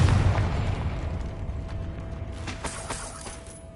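Fiery Confringo spell blasts from Hogwarts Legacy, a dense rumbling burst that fades into crackling debris with a few sharper pops near the end, with no talking.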